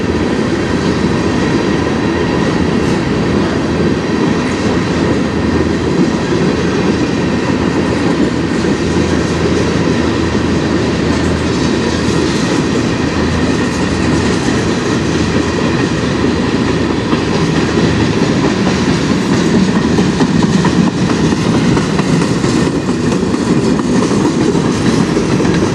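A CN freight train rolls past on the Strathroy Subdivision at speed, a loud, steady roar of wheels and rail clatter that holds unbroken from start to finish.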